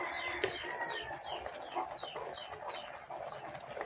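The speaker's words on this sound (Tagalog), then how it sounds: "tilawak ng tilawak yung manok." Chicken clucking over and over in a farmyard, a rapid series of sharp repeated clucks close by with faint background noise and no talking.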